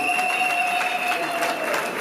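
Guests at a Congolese civil wedding ceremony applaud, a steady wash of clapping held at a constant level for about two seconds, with a bright tonal ringing over it.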